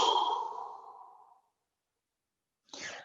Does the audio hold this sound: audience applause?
no